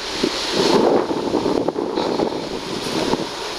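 Sea waves wash onto the shore on a November day, a steady broadband rush of surf mixed with gusty wind buffeting the microphone, loud and continuous with no voices.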